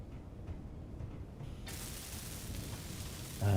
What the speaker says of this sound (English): Weld these up